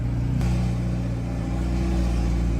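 A McLaren 720S idles in a four-car garage while backing in, a loud, steady low engine rumble with a brief shift in tone near the start, close and continuous.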